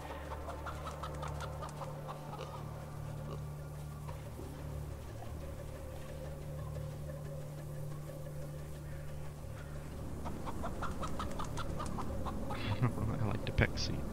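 Chickens cluck in Atom RPG over a steady low hum of game ambience, the clucks scattered and fairly faint, then growing busier and louder near the end.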